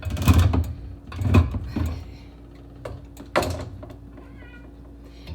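Two pet cats meow in a home kitchen during cooking, giving a few short, fairly close calls spaced across the moment, with light kitchen clatter and mechanical noise underneath.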